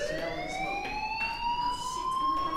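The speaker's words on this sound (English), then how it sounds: "Hey, do you hear that fire alarm?" A fire alarm sounds in the video game Life is Strange, a steady, continuous electronic tone that slowly rises in pitch and rings alone for the whole stretch.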